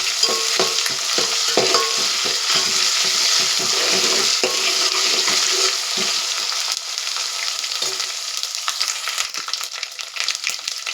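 Ginger paste and onions fry and get stirred in hot oil for a bhindi masala curry, with a steady loud sizzle and repeated scraping stirs throughout, no talking.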